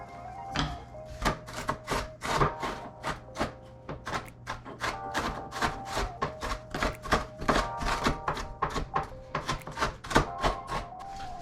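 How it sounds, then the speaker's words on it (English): A knife chops drained bacon bits on a board, dozens of quick, sharp taps in an uneven but steady rhythm, close and clear with no talk. "I am going to take these bacon bits that I have drained the fat off and chop them"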